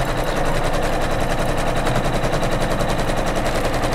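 An embroidery machine stitching a tack-down line on a hooped pillow block, a loud, rapid, steady mechanical rattling of needle strikes that runs without a break, close up.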